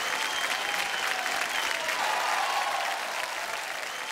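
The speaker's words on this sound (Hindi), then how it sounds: "जोरदार तालियां भैया के लिए" Audience at a Bhojpuri film award show in Malaysia applauding, a dense, even roar of clapping from a large crowd that holds steady for several seconds.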